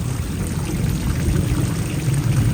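Floodwater from heavy monsoon rain pouring into a house through the doorway, a steady rushing, gurgling flow that stays loud and continuous.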